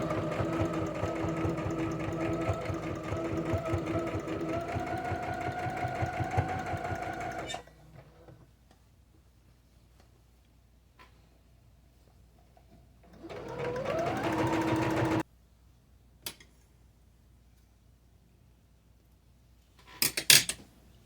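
A sewing machine stitching lined kitchen curtains whirs in a steady run for several seconds, pauses, then stitches again in a shorter burst, followed by a few light clicks and clatters.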